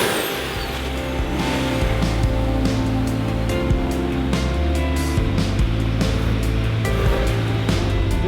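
Nissan R32 GTR with an HKS 2.8 engine idling, a loud, close, low drone that wavers unevenly, with small mechanical clicks and ticks on top.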